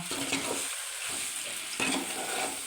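Vegetables and pasta sauté in a hot pan with a continuous close sizzle and scraping stirring, pausing briefly before the frying hiss swells again.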